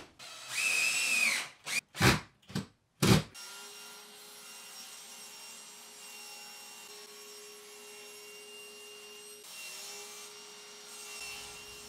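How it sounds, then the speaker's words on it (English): A power drill drives screws into a wooden panel while building a tool wall, with several short loud bursts of whirring in quick succession, then a quiet steady hum of the room. "So I'm just going to put in 9 screws and that should be enough to hold the panel."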